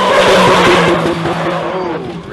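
Tires squeal loudly as a Japanese car drifts, a harsh skid with engine noise beneath, strong at the start and easing slightly toward the end.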